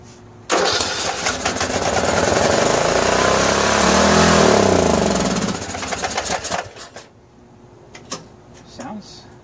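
A 15.5 HP Briggs and Stratton engine on a Troy-Bilt riding mower cranks and catches, roaring loudly for several seconds before sputtering, surging unevenly and dying down, with faint voices near the end.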